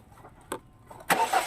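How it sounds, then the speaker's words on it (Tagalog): A Hyundai Tucson engine cranks briefly and then catches, starting with a sudden loud roar after a short quiet pause, heard up close. "isusubukan natin siyang ulit i-start kung magtutuloy-tuloy na yung andar"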